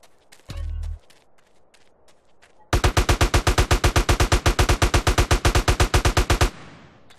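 Rapid automatic gunfire in GTA San Andreas DYOM: a loud, close, evenly paced burst of about two dozen sharp shots, preceded by a single short blast and a few faint clicks.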